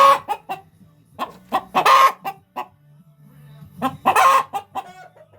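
An angry hen in a chicken coop, squabbling over a nesting box, lets out loud, close, agitated clucks and squawks in uneven bursts, with a brief lull in the middle.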